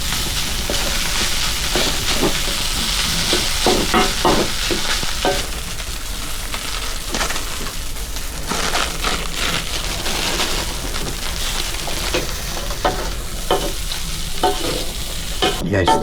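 Steady sizzling and frying of fried rice in a hot pan, with repeated scraping and stirring strokes throughout; no talking, continuous and fairly loud.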